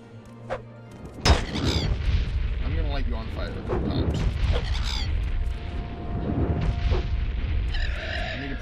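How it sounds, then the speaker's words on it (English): A fire spell cast in the video game Morrowind, a sudden loud booming whoosh followed by a sustained rumbling burn, with someone talking over it. "I'm gonna light you on fire."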